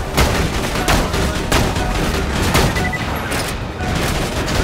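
An explosive sniper rifle in Borderlands 2 fires a rapid string of loud, crackling blasts that burst over and over without a break, dense and harsh from start to finish.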